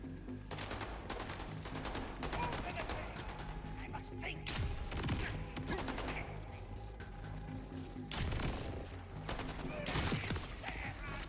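Jakobs shotgun fire in Borderlands 4 shows up as heavy booming blasts around the middle and end, over dense game music and effects with talk alongside.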